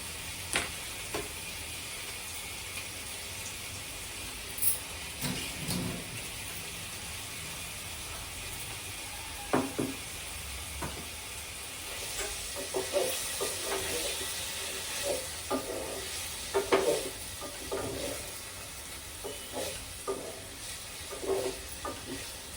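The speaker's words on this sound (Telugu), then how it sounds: "మనం ఈ పన్నీర్ ముక్కలు వేసేద్దాం. ఇవి కూడా వేగాలి కొంచెం" Paneer pieces frying and being stirred in a pan for palak paneer rice, a soft continuous sizzle with scattered scraping and clicking stirring sounds that grow busier toward the end, no talking.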